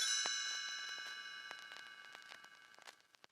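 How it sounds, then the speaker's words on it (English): Chimes ring in a read-along story as a page-turn signal, with one bright metallic strike that rings out and slowly decays, followed by faint scattered ticking, soft and alone. "You will know it is time to turn the page when you hear the chimes ring like this."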